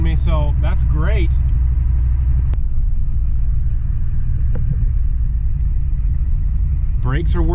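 A 7.3 IDI diesel truck engine with a stalling fault running while driving, a low steady rumble throughout, with brief clicks and someone speaking over it at the start and end.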